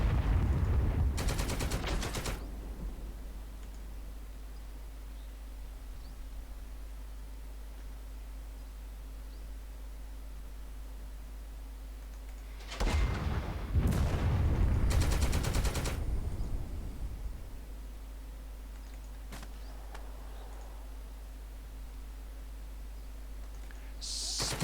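Bursts of gunfire from a tactical video game, fired at the top floor of a building: one loud volley near the start and a second, longer burst in the middle, with quiet stretches between.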